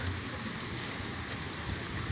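Heavy rain pours steadily down on a city street during the Broad Street Run on a wet April day, a dense, unbroken hiss spread evenly across the whole stretch with no voices.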